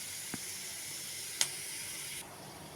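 Pirandai (adamant creeper) sautéing in a pan gives a steady, fairly quiet hiss and sizzle. Two brief clicks break it, and the sizzle drops away sharply near the end.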